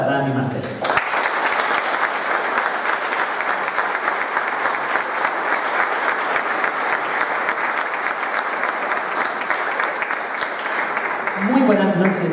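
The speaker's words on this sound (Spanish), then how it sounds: "de nuevo un fuerte aplauso para Dani Martel." A hall audience at the Santa Cecilia concert of the Puntallana municipal band gives a strong, sustained round of applause lasting about eleven seconds, thick crowd clapping with audible individual claps, briefly framed by other sounds at the start and end.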